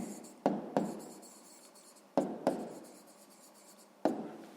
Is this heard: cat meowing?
no